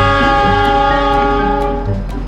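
A train running in the GTA 5 video game, a loud, steady engine drone with sustained tonal hum and faint periodic clicks, no voices.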